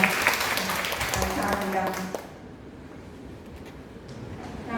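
Members of a women's leaders association operating committee in Gyeongnam briefly clap to approve a meeting motion, a short burst of clapping mixed with voices that stops after about two seconds, leaving quiet room noise.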